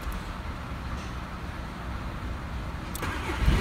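A 1.9 litre VW Sharan TDI diesel engine runs steadily with a low, rough mechanical rumble throughout, then a brief louder burst near the end as it picks up revs.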